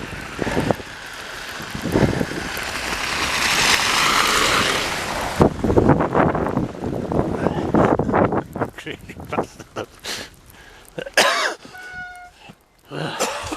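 Steady roaring wind buffets the microphone of a cyclist pedalling to work through a blizzard, loud and continuous at first, then breaking into gusty, uneven bursts.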